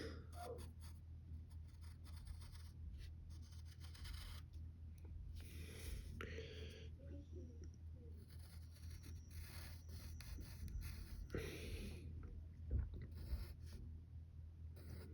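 A pencil sketching on paper in soft, irregular scratchy strokes and rubs, quiet and close, with brief louder scrapes and no voices.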